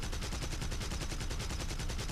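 Rapid, continuous automatic cannon fire from a Heinkel He 112 fighter in the War Thunder aerial combat game, a steady dense rattle of shots heard alone without talk.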